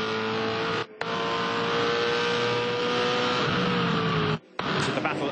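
V8 Supercars race at Bahrain in 2008, with Rick Kelly and Stephen Johnson battling toward turn 6; loud engine drones hold steady, broken by two brief gear-change dips, as a commentator talks over them.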